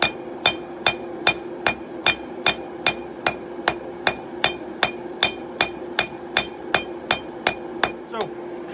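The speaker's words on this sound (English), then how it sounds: "you're basically just going to flatten it out from the front, make it into a blade. Just keep thinning that edge down." Steady hammer blows ring out on steel over a 66-pound anvil while a blade is forged and its edge thinned, about sixteen sharp metallic strikes in an even rhythm, loud and close with no talk.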